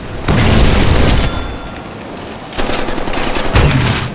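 A big gun fires in the Deadpool video game, with loud booming bursts of rapid automatic fire and heavy blasts, close and dominant, with short pauses between volleys.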